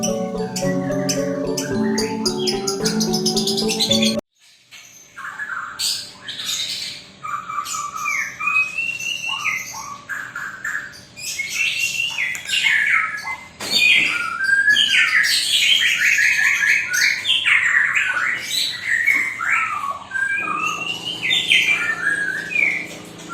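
Fruit-eating birds sing a duet, with loud chirps, squawks and whistled phrases in bursts, and a stretch of layered musical tones at the start.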